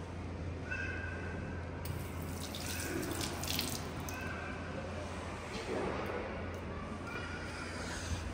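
A washroom tap runs with a faint, continuous hiss of water and a few soft splashes, heard at low level in a quiet room.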